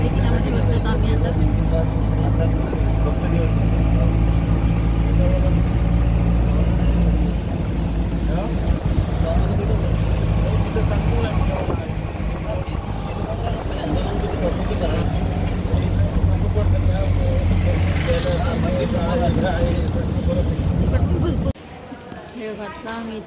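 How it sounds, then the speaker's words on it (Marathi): Steady rumbling engine drone of an auto-rickshaw carrying passengers with their bags, running loud and close throughout before dropping off near the end, with voices talking over it. "रिक्षामध्ये बसतो आम्ही आता।"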